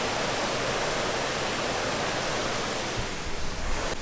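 Waterfall at Melanda Falls in Queensland, a dam-like falls beside a bridge and swimming deck, roaring as a steady, loud, broadband wash of falling water throughout with no voices.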